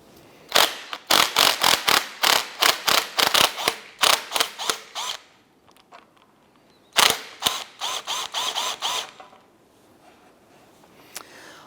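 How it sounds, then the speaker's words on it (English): Quick ratchet clicking in two bursts as the upper strut nut is loosened on a 2004-2008 Acura TL, sharp close clicks with a pause between runs. "we're going to go ahead and loosen the upper nut on our strut"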